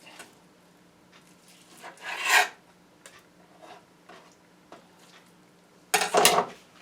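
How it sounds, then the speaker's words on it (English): A knife trims excess fat from a ham in short, close scraping and rubbing strokes, with two louder cuts and light taps against a board between them, no speech. "cut out that excess fat"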